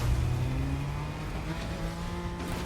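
A car drives in the video game Fortnite, its engine a loud, steady hum with a faint rising whine and a rough road rumble beneath, heard alone.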